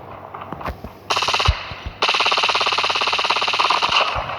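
Rapid automatic gunfire in a video game shooter, close and loud, starting with a few single shots and then breaking into sustained bursts of fast rattling fire.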